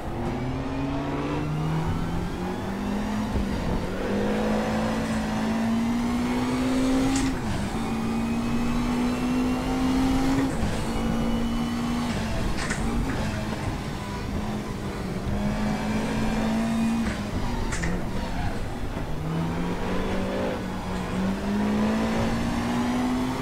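A steady engine drone with a rising, singing gearbox whine that climbs and drops repeatedly as the car accelerates and shifts, continuous and close; a 1992 DTM Mercedes 190 EVO II racing at the Nürburgring in the game RaceRoom.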